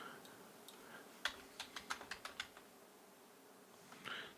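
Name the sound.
typing on a computer keyboard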